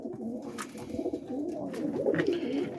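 Pigeon hens coo softly and repeatedly in a loft of racing roller pigeons, a close, murmuring chorus of overlapping low calls with no talk.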